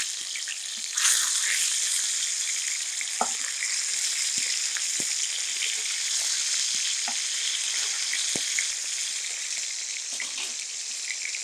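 Fish frying in hot oil for a Thai fish curry, flipped to its other side, gives a steady, close sizzle with a few sharp clicks and taps of a utensil against the pan throughout.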